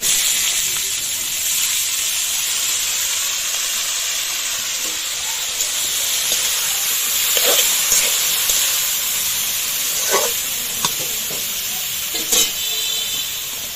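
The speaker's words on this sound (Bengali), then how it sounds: "এবার দিয়ে দিব কেটে ধুয়ে রাখা মূলা।" Chopped, washed radish goes into a hot pan and sizzles loudly and continuously, with a bright hiss and a few scattered stirring clicks close by.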